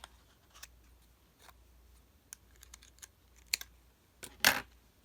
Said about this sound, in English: I think I'll snip out that.